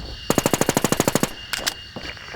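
Automatic gunfire in the online shooter game NewZ: a loud, rapid burst of about a dozen evenly spaced shots, then a couple of short, quieter bursts, with no talking.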